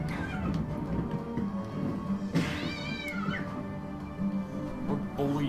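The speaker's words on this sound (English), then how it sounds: "We're bullying a cat." A cat in the video game Rock of Ages II meows loudly with a drawn-out, wavering cry, heard alone over steady game background noise.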